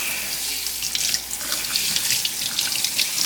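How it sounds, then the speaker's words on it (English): Tap water runs steadily into a sink while New York strip steaks are rinsed under it, a close continuous splashing rush with small shifts as the meat is moved through the stream. "just rinse them off a little bit."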